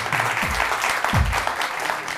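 Studio audience of a weekend TV comedy show breaks into brisk applause, close and full-bodied, with a couple of low thumps and brief voices mixed under the clapping.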